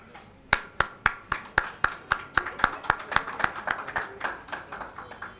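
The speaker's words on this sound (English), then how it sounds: "Please keep the round of applause going to cheer them up." An audience at a diploma awarding ceremony claps in a steady rhythm, sharp hand claps close by repeating about twice a second and softening slightly toward the end, with no one speaking.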